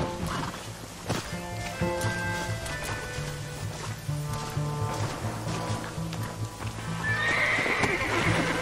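Horses in the video game Red Dead Redemption gallop with rapid, rhythmic hoofbeats and give loud whinnies, set among other game sounds, close and busy throughout.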